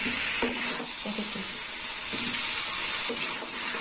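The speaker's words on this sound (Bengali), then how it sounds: "মশলার সঙ্গে এঁচোড়টা কষা হয়ে গেছে দেখুন বন্ধুরা।" Green jackfruit stir-fries with spices in a pan, giving a steady close sizzle and hiss with a couple of light clinks of a utensil against the pan.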